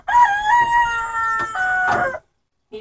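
A rooster at a backyard setting with rabbit hutches crows one long, loud, strained cock-a-doodle-doo close by, breaking off into sudden silence.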